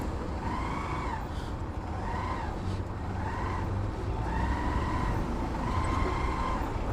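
Road traffic surrounds a motorcycle rider near a riverbank: a constant engine and road rumble, with repeated rising and falling tonal whines from nearby vehicles.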